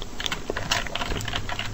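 Rapid, uneven clicking of computer keyboard keys, including arrow keys pressed while working in a command shell, close and fairly steady throughout with no voices.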